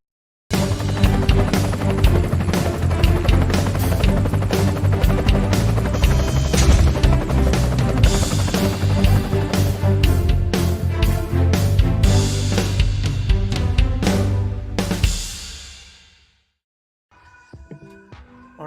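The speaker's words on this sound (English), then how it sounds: "let's get the drone going" A drone sound effect plays during a gaming podcast break, a loud, dense, steady mechanical drone with rapid pulsing that runs continuously for about fifteen seconds, then cuts out abruptly, leaving faint scattered tones behind.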